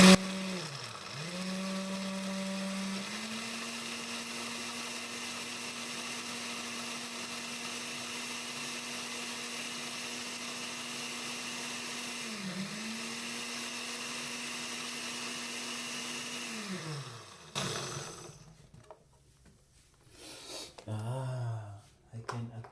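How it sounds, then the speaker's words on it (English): A kitchen blender whirs loudly and steadily while blending Jamaican peanut punch, its motor pitch dipping and recovering a couple of times before cutting off near the end, followed by brief clinks and handling noise. "I'm gonna blend this for approximately a minute or two"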